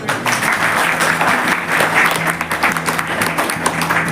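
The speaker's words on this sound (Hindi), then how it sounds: "सर के लिए तालियां" A room of teachers at a maths in-service training session applauds a trainer, steady dense clapping throughout, fairly loud and close, with a faint murmur of voices beneath.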